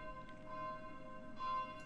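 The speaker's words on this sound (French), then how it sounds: "peut-être que vous entendez les cloches qui sonnent chez moi" Church bells ringing nearby on a snowy Sunday evening in Lausanne, steady resonant tolling with sustained overtones, heard indoors from a home next to the church.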